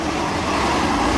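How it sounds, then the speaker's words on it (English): A big, very loud truck passes close by, a dense, steady rumble and roar filling the whole moment with no voices heard. "we got a big truck that's very loud while we're filming"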